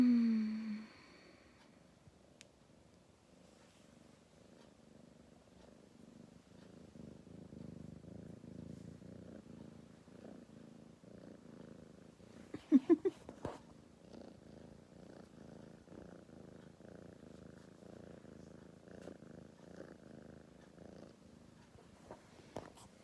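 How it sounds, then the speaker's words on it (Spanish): A cat purrs steadily and softly at close range, a continuous low rumbling throb that runs for over twenty seconds with a few faint rustles partway through. "Ahora escucha el de este gato, este ronroneo que te masajea"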